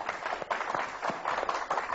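Audience applause at a Turkish stage comedy show, a steady patter of many hands clapping at moderate loudness for a couple of seconds, with no voices on top.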